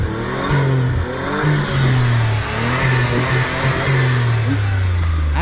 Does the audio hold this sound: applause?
no